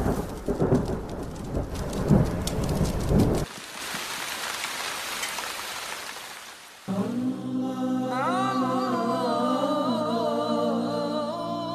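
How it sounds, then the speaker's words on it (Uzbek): Steady rain hisses over deep, rolling thunder for a few seconds. A broad wash of noise follows, then a sustained tonal drone swells in and holds to the end, loud and without voices. "yer yuziga yomg'ir yog'dirdi."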